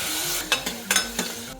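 Onion sautés in a pan with green chilli and curry leaves before tomato goes in, a brief soft sizzle broken by four quick spatula strokes, with no talking.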